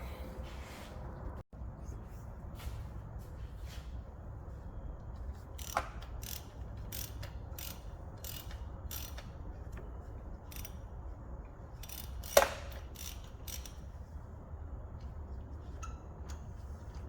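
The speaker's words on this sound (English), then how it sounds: "I'm gonna get in there with the plug wrench and plug socket" A plug wrench and socket work a spark plug out of the aluminum head of a 2019 Jeep Cherokee Trailhawk 3.2 L V6, with quiet, scattered ratcheting clicks and small metallic taps over a low background hum.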